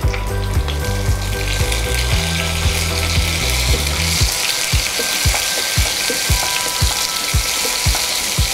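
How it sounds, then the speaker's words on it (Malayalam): Garlic fries in hot coconut oil with a bright, continuous sizzle, overlaid by a low mechanical humming drone early on and then a steady run of regular clicking ticks. "എണ്ണ ചൂടായിട്ടുണ്ട്. നമുക്കതിലേക്ക് വെളുത്തുള്ളി ഇട്ട് കൊടുക്കാം."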